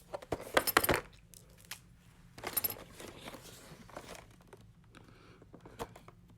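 Packing tape being pulled and torn off a cardboard box holding a new Sony a6400 camera, heard as a few sharp close crackling rips and rustles with quieter handling noises between them.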